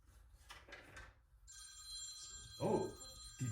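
A telephone ringing in a room, with a steady, fairly loud electronic ring tone that starts partway in and holds, while a few brief thumps and handling noises sound nearby.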